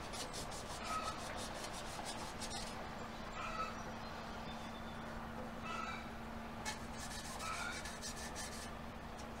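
Steady abrasive rubbing on a new scythe blade to strip its paint, a close continuous scratchy scrape with faint rhythmic strokes over a constant low hum, no talk.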